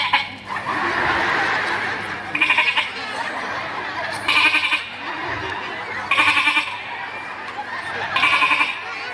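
A man imitates a kid goat with his voice during a sermon in a mosque. Four or five short, wavering bleats repeat at roughly two-second intervals over a low murmur.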